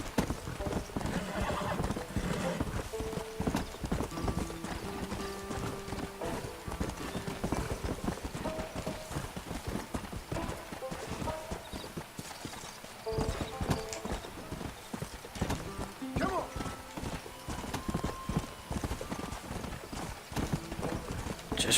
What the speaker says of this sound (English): Just riding a horse.